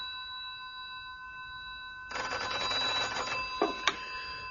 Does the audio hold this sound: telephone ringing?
yes